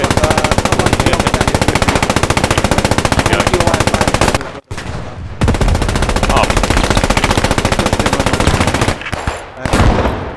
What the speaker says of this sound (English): I'm just shooting. Just keep firing.